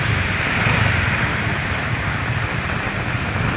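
Heavy rushing water roars steadily beneath a bridge in Batasan, San Mateo, a dense broadband wash with no letup, like a swollen river in full flow.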